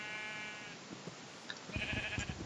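Sheep bleat in the video game Minecraft, a few faint, short bleats with some soft background noise, no talk.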